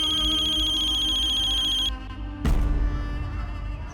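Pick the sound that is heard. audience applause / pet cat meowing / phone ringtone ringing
phone ringtone ringing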